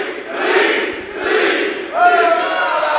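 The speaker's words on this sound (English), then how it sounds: "Listen to this crowd." A crowd at an All Pro Wrestling show in a gym in Concord, California cheers and roars in rising and falling swells, with a few shouts and whistles cutting through near the end.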